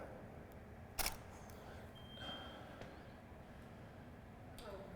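A single sharp click of a single-lens reflex camera shutter firing on a weak, dying battery, close and isolated against faint room hiss.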